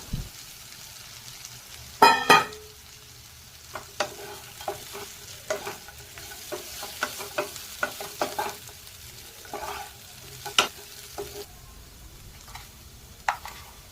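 Fried potatoes being stirred into rice in a pan, with a steady soft sizzle underneath and repeated scraping, clattering strokes of a spoon, one louder clatter near the start, close and without talk.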